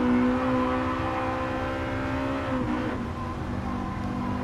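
A Honda Integra Type R DC2 engine hums steadily at speed on a racetrack, its tone sliding lower then rising again as it shifts, loud and close with no talking.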